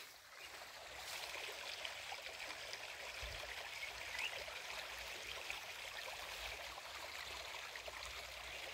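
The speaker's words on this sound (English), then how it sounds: "Hear the sound of the river." A river flows near a rural home compound, a soft, steady trickling and gurgling rush that stays continuous and fairly faint from start to finish, with no speech.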